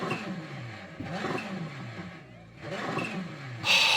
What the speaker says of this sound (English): So you basically need to start your engine.